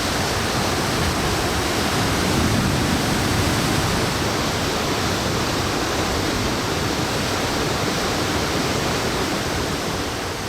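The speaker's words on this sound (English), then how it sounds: "This is the Rainbow Falls." Rainbow Falls near Nongriat village roars steadily, a loud, constant rush of falling water that fills the whole scene without pause.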